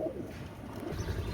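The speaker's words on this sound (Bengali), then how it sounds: "এটা হচ্ছে গোল্ডেন কবুতর সিঙ্গেল নর।" A single male golden pigeon coos softly, a low, muffled murmur close by with no talking.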